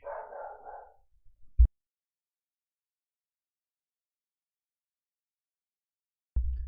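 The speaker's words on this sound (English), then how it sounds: "my dog was barking" A dog barks in a few short, muffled bursts, a brief cluster early on and another near the end, separated by silence and heard alone.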